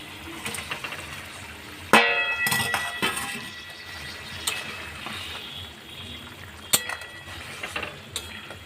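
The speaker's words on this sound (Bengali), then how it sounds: "দেখুন আমার এই জলটা ভালো মতো ফুটে গেছে। এবার আমি এর মধ্যে এই ভেজে রাখা পনিরগুলো দিয়ে দেবো।" Fried paneer pieces drop into a pot of boiling water with a sudden sharp clatter and splash, followed by bubbling and scattered utensil knocks against the pot.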